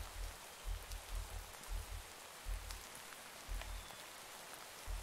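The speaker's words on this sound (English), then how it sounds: "The rain is just never-ending." Steady rain patters continuously in Minecraft with the Valhelsia 2 modpack, a dense hiss of falling drops under soft low thumping, faint and without voices.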